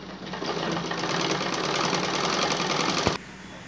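A sewing machine runs in one steady, fast stitching burst while hemming a double-folded pant leg, close and loud, then stops abruptly just after three seconds.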